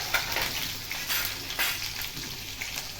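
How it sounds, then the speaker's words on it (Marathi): Mustard seeds, cumin, sliced garlic and green chilies sizzle and crackle steadily in hot oil in a pan, a dense continuous frying hiss with small pops, close and fairly loud, for an okra stir-fry. "तेल चांगलं गरम झालं की त्यात टाकायची पाव चमचा मोहरी, पाव चमचा जिरे, कापलेला लसूण"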